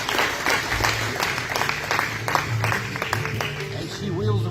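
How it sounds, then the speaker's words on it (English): A crowd at a community club meeting claps heavily and unevenly, with a voice talking underneath and a low hum throughout. "give them a good hand"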